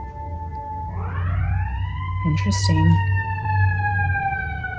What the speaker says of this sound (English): now we have the ambulance or fire truck. I think that's fire.